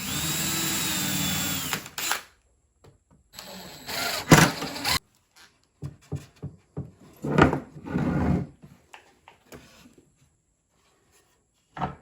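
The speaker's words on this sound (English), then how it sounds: "got a brad point bit. I'm countersinking these" A drill spins a brad point bit into wood, countersinking holes for stainless steel fasteners on a DIY beach chair, with a sustained whine at first, then short stop-start bursts of drilling separated by quiet gaps.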